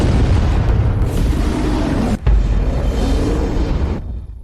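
An orbital cannon fires in a massive, sustained explosion: a loud, continuous roar with a deep rumble that briefly cuts out near the middle, then resumes and fades at the end.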